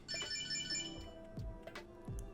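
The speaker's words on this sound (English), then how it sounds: "you click the button on this, it's gonna beep your phone" A smartphone sounds a beeping alert, set off by pressing the button on a wallet tracker, with repeated tonal beeps running through the whole stretch alongside some low thumps and handling noise.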